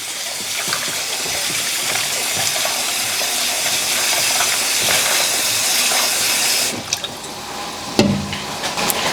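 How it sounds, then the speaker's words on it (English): Steady running water hisses from a tap for several seconds while shrimp are washed, then shifts to a splashier, uneven flow with small clatters near the end. "And I'll wash it one more time."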